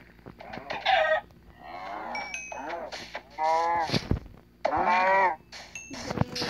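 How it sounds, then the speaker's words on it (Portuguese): A chicken clucks in a video game involving zombies and swords, with repeated bursts of throaty, rising clucks that come in short bouts separated by brief pauses, fairly close and loud over a low background hum. "Galinha. Cai fora."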